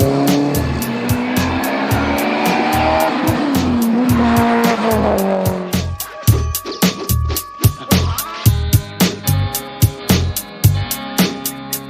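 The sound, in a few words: Mitsubishi Evo sports car driving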